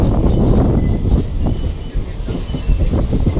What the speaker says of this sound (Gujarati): હવે ટ્રેન પાટો બદલી રહી છે